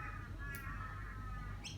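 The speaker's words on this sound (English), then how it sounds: "we've been joined by my crows that live in the park" Crows in a park give a couple of faint, distant caws, one early and one near the end, over a low outdoor rumble.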